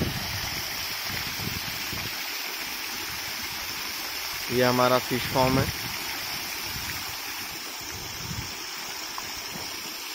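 Steady rushing flow of water from an inlet pipe into a fish farm pond, continuous outdoors, with someone briefly speaking over it midway.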